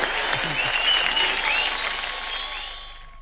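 An audience applauds loudly at a comedy show, while high whoops and whistles ring above the clapping. The sound tails off over the last second.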